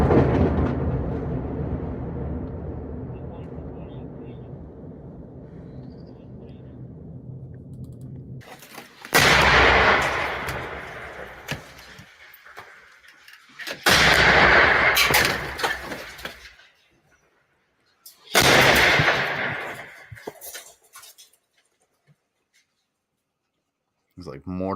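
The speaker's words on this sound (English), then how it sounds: "It's like mortar or artillery shells." Mortar or artillery shells exploding in Russia-Ukraine war combat footage: three loud, heavy blasts arrive in separate bursts with silences between them, after a stretch of low rumbling noise.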